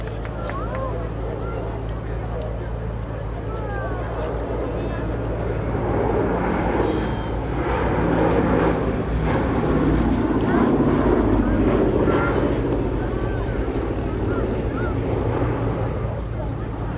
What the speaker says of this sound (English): And here it is, running in from the right, the Boeing B-17G Flying Fortress